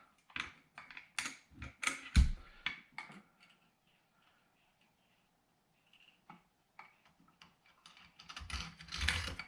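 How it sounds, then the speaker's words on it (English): A VZ-58 clone rifle's bolt carrier slides into place and the dust cover is fitted, giving a burst of close metallic clicks, scrapes and ratcheting clacks, then a quiet pause and a final cluster of handling clatter. "slide in your bolt and carrier. There's the dust cover."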